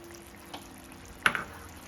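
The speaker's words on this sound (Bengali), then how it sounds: "দেবো আরো একটু জল।" Water poured into a pot of nearly boiled potatoes for a small-fish curry, heard as a short splashing gush after a quiet simmer, with another burst of pouring at the very end.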